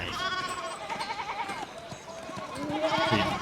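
Sheep bleat in the medieval video game Pentiment, several wavering cries in a row against quiet rural ambience, fairly near and clear, with no talking.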